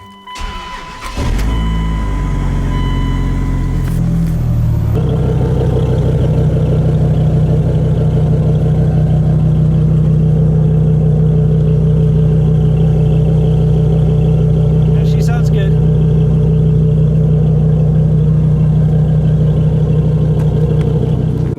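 A car engine with a dirty air filter cranks and catches, then settles into a loud, steady idle that runs on continuously, with a faint click partway through.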